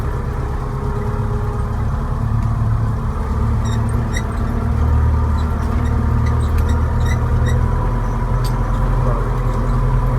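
Tractor with sprayer rolling in second gear over a bumpy, uneven cornfield, its engine droning steadily and loudly throughout with faint clanks and rattles from the rough ground.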